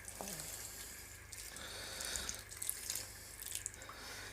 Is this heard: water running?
yes